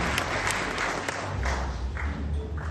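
An audience at a Paris gala claps for a speaker's father-in-law, sustained applause from a crowded room with a few sharper claps standing out.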